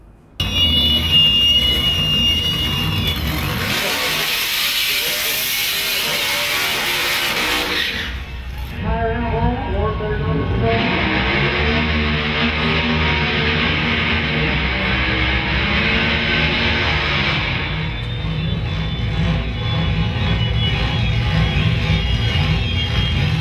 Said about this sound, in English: That noise you can hear, that's all the car alarms in the car park going off.